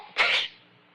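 A single sharp sneeze bursts out near and loud, then fades into quiet room tone, set within an old-time radio drama.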